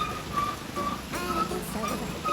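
Steady, soft summer rain falls as an even hiss, with faint whistling tones and a light background hum, no voices present.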